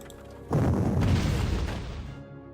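A single heavy artillery boom from the Panzer Corps wartime strategy game hits suddenly, then rumbles and fades over about two seconds, loud and close.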